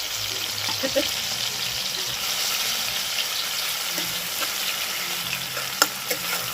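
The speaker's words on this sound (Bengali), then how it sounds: "পেঁয়াজ আর টমেটোটা ভেজে নিয়েছি" Onion and tomato fry in a pan while being stirred, giving a steady close hiss and crackle with occasional scraping clicks, no talking.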